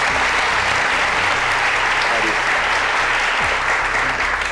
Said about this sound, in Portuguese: Quero aplaudir a resposta.